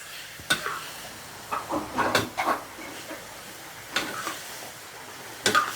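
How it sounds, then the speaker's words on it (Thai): Mushrooms sizzle in a full pan while a utensil scrapes and stirs in irregular bursts, with quiet stretches between the strokes. "ใส่เห็ดลงไปเต็มกระทะเลยค่ะเดี๋ยวน้ำเห็ดก็จะออกมาค่ะ"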